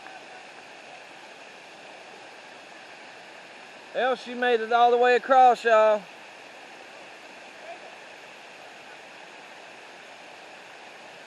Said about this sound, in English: She's going for the other waterfall.